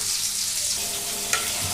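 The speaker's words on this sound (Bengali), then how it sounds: "এখন আমরা মাংসগুলো ভালো করে কষায় নেব" Chicken meat sautés in a pan for biryani, giving a continuous close hiss of frying with a single sharp clink of a utensil midway, no voices.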